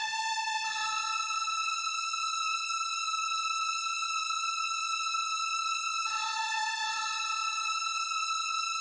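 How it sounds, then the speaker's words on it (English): A sustained synth lead of bright saw waves washed in heavy reverb, holding long tones that shift pitch once partway through. "for the lead sound, I'm just taking saw waves and I'm soaking them in reverb"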